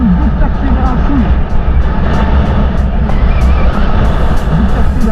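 A Stark Varg electric motorcycle accelerating, a close, loud motor drone with a rising whine, heard under wind and someone talking.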